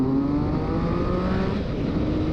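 A 2020 Triumph Speed Triple RS motorcycle with up and down quick shift roars steadily under load, engine pitch rising and shifting as it accelerates, loud and close with wind noise and no talking.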